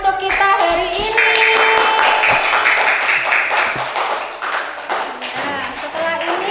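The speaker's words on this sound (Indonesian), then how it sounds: "Tepuk tangan untuk kita hari ini." A round of clapping in an elementary school classroom, a cluster of hand claps mixed with children's voices that fades out toward the end.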